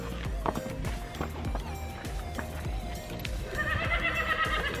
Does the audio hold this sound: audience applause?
no